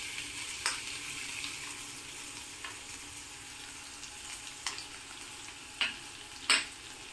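Crushed garlic and green chili frying with cumin in a pan for paneer bhurji, a steady close sizzle with occasional sharp spatula taps and scrapes, growing more frequent toward the end, no talking.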